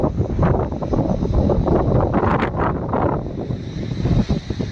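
Floodwater of the Godavari river roars past a bridge at Godavarikhani after the Kadam project gates are opened, a loud, constant rushing churn mixed with gusty wind buffeting the microphone, with no voices.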